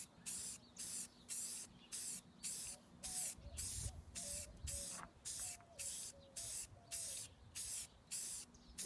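Spray can paint applied to a plutonium display case prop box, a series of regular short hissing bursts about half a second each, close and loud, with no talk.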